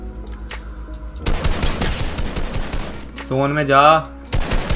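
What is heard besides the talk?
gunfire and a headshot in the video game Fortnite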